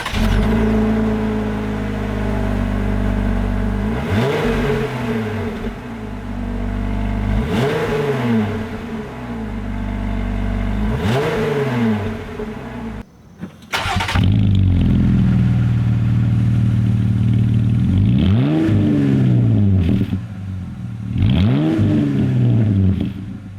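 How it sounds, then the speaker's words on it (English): A Jeep JL with an MBRP high-clearance exhaust revs in loud repeated bursts. The engine note climbs and falls several times, then drops out briefly before a deeper, rumbling series of revs that rise and settle, heard close and without speech. "if you want to hear the exhaust note for this system"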